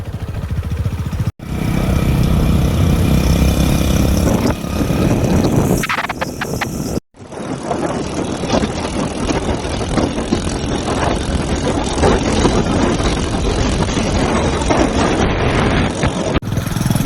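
A motorcycle engine with its silencer removed roars loudly and raw without muffling, steady and harsh, with a brief cut partway before it resumes.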